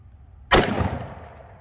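A single sharp gunshot from a Hi-Point JXP 10mm pistol cracks loud and close, followed by a short decaying outdoor echo.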